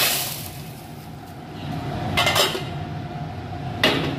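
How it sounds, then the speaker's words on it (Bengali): Dal is tempered in a pan on a morning stove: a steady hiss with metal clinks of a spoon against the pan, two sharper clatters standing out, close and fairly loud. "এবারে দিচ্ছি ডালটাকে সম্বর।"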